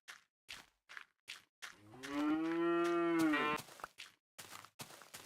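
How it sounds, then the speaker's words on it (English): Loud, drawn-out cow moos from Minecraft, one long sustained bellow in the middle, framed by a string of short clipped moo bursts before and after it. "what is up with the cow volume?"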